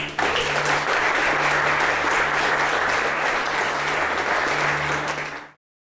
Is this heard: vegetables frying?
no